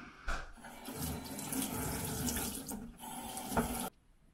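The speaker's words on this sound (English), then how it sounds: "Now we're going to rinse." Tap water runs steadily over a piece of cottage roll being rinsed, a quiet splashing stream that starts suddenly and cuts off after a few seconds.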